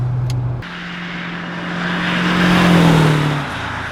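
Swapped V8 engine in a London taxi running steadily, a low droning hum that rises slightly in pitch and volume midway before easing off, with no talk.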